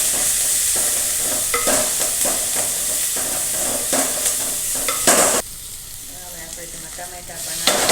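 Fenugreek leaves and chillies frying in a hot pan, with a loud close sizzle and repeated stirring scrapes that give way to a softer, steadier hiss with faint crackles after a sudden drop in level.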